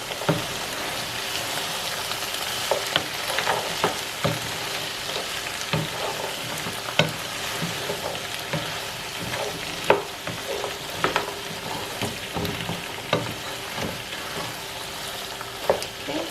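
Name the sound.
stirring okra soup in a pot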